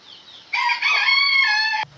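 Herati rooster crowing once, a loud, close cock-a-doodle-doo with a soft rising opening call followed by a long sustained harmonic crow that cuts off abruptly, with no talk over it.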